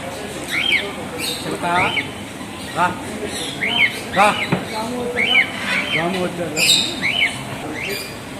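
Many birds, including South African species, squawk and chirp over one another in a busy, echoing exhibition space, while people talk in the background.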